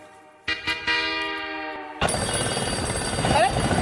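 A telephone rings indoors with a steady electronic tone, then gives way to broader, busier noise that sounds like voices.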